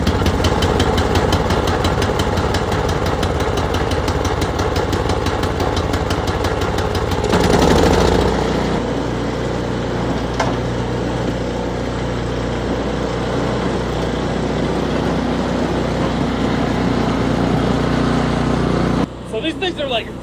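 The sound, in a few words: snowblower engine starting and running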